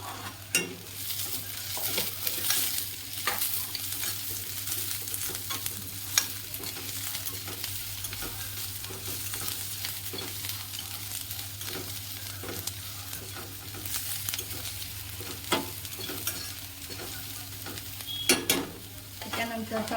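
Green chilies and garlic frying in hot oil for poha, a steady crackling sizzle with frequent stirring scrapes and clinks of a spoon in the pan, close and continuous, with no talk.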